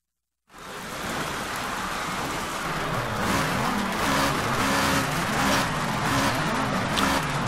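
A Summer Plus SP 300R race car engine in Project CARS at Azure Coast, a steady loud engine drone with rising and falling pitch sweeps as it accelerates and shifts, alone without talk.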